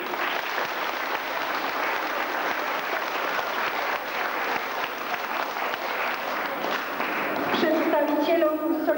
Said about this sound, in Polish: Proszę o oklaski.